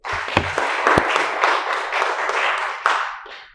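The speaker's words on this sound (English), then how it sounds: "they deserve a round of applause" A short burst of applause from an audience, dense clapping that swells briefly and then fades out.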